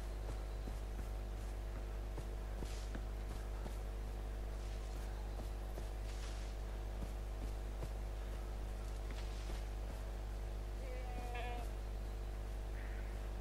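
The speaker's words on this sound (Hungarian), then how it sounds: "Hegyi kecske." A mountain goat in the Far Cry 4 video game gives a few faint bleats against a steady low hum and game ambience, no talk.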